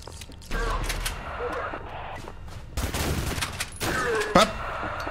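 Rapid bursts of rifle fire from the video game ADACA crackle in several volleys, loud and close, mixed with other game effects and brief chatter.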